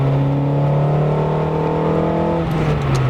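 Nissan Sentra 200SX SR20DE engine pulling hard under acceleration from inside the car, a loud continuous drone with steady harmonic tones and no pauses.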